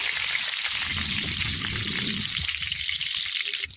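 Dried red chillies, curry leaves and garlic hit hot frying oil for a chicken fry, giving a steady bright sizzle and hiss with a brief burst of crackling partway through.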